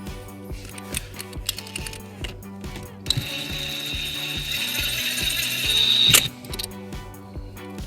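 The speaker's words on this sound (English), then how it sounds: "And then we'll secure it with a 10mm socket." A hand ratchet with a 10mm socket tightens an M8 nut during a trailer wiring harness install on a 2009 Toyota Highlander, giving rapid, close clicking pawl bursts, quieter at first and building to a denser run near the end.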